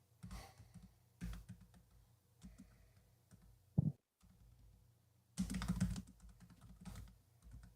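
Quiet bursts of keyboard clicking, typing in short clustered runs separated by pauses, close and soft in an otherwise still room.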